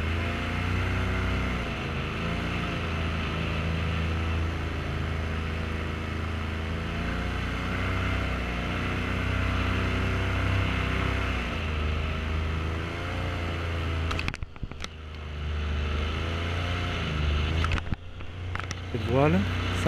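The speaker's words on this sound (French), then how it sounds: "Donc là le moteur tourne, il va pas tarder à décoller" A paramotor engine drones steadily and loudly throughout, its pitch wavering slightly as it idles before takeoff, with brief wind buffeting and handling noises near the end.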